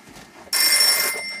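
A telephone rings in a room, one loud sustained electronic trill that bursts in abruptly after a quiet moment and holds steady to the end.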